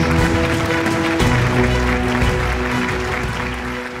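Audience applause as a minister is welcomed on stage at a business awards ceremony, a broad clapping texture mixed under loud, sustained music throughout.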